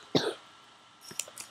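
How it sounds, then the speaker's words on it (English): A single sharp cough up close, followed by a few softer throat sounds and small noises, in a quiet room. "Sorry about my cough"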